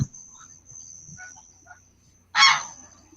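Chinese and Emden geese honk in one loud, harsh burst near the end, after a stretch of faint, scattered sounds over a quiet background hum.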